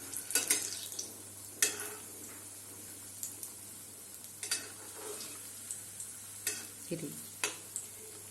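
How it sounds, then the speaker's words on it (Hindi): Lauki kofta fry in hot oil with a quiet steady sizzle, punctuated by repeated sharp clicks and scrapes of a utensil against the pan at irregular intervals. "अब बाकी भी हम इसी तरीके से तल लेंगे"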